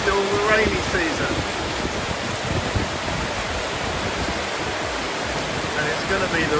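Heavy rain pours across the streets of an Isaan town during the rainy season, a dense, steady roar of downpour filling the scene from start to finish with no pauses.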